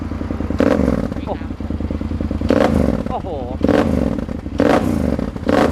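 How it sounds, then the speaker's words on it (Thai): A 2013 Yamaha Super Tenere with a loud Leo Vince SBK full-system aftermarket exhaust is revved in four sharp bursts over a rumbling idle, close by, with a man's brief exclamation between revs. "อ่ะเดี๋ยวมาฟังเสียงท่อหน่อย อันนี้เป็นท่อแต่ง Leo Win SBK นะครับ"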